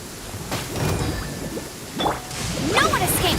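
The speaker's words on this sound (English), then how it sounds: "It's raining again." Steady rain hisses through the Genshin Impact video game world, layered with chiming and whooshing game effects, a continuous wash of moderate loudness.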